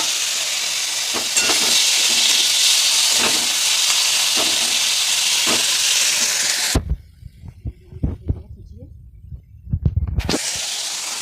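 Hilsa fish oil fries in a pan, sizzling with a loud, dense hiss for several seconds, then drops to scattered clatters and pops before the sizzle returns.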